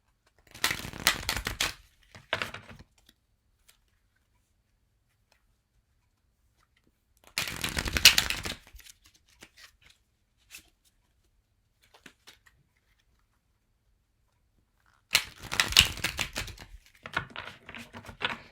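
Three separate bursts of rapid riffling and shuffling of tarot cards, each lasting about two seconds, with quiet gaps between them and no talking.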